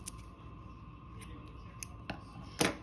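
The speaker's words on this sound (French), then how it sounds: "Je coupe mon fil" Scissors snipping crochet yarn: a few quick, crisp cuts close to the microphone over a quiet room, the last snip the loudest.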